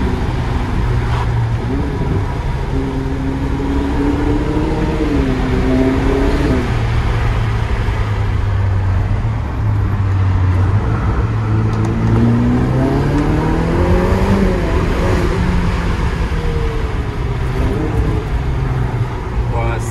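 A Ferrari SF90 Stradale cruises on the road, its engine a steady hum that rises in pitch with acceleration, with wind and tyre noise throughout and someone talking over it.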